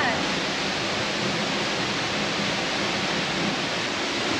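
Waterfall in Bali, a dense, constant roaring rush of falling water, loud and close, filling the whole span without pause.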